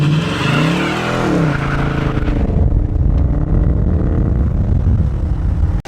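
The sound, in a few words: 2020 Dodge Challenger R/T 5.7L HEMI revving, brake-held burnout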